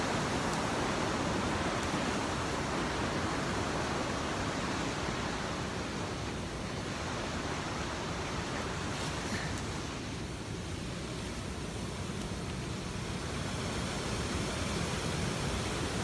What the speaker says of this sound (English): This waterfall is coming out of Paintbrush Canyon.